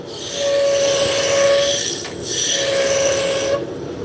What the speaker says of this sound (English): So I'm going to start with my roughing gouge. Just start bringing the diameter down.